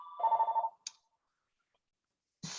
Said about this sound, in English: my phone is ringing and it's not my cell